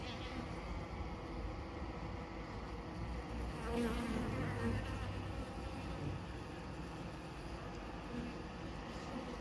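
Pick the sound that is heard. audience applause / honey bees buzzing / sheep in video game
honey bees buzzing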